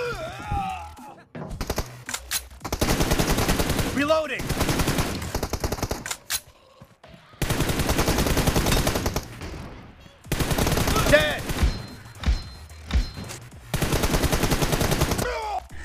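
Bursts of rapid automatic M416 gunfire in a video game come in several long volleys separated by short pauses, loud and close, with scattered single shots between.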